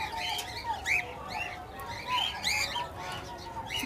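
A breeding pair of red pied doves in an aviary gives repeated short chirps and soft calls close by, mixed with other birdsong and faint wing sounds.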